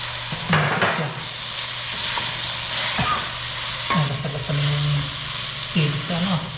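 Leaves hit a hot frying pan and set off a steady sizzling hiss, joined by occasional stirring clatter. A voice speaks intermittently over the frying.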